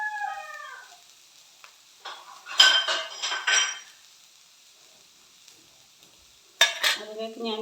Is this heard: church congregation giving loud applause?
no